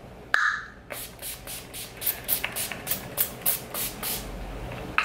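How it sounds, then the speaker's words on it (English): A sharp click, then a rapid series of short bursts of Urban Decay All Nighter Setting Spray, about a dozen quick pumps of mist hissing close by in a steady rhythm. "I'm gonna be going in with Urban Decay All Nighter Setting Spray"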